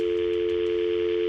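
A telephone dial tone heard on picking up the handset: one loud, steady, unbroken hum that holds at the same level throughout, with no dialing or talking.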